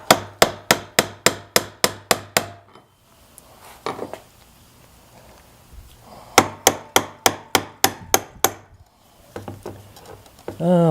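A fuel tank lock ring on a VQ40 engine vehicle is tapped loose counterclockwise with a tool: a rapid run of about ten sharp metallic strikes, a pause with faint handling noise, then another quick burst of taps.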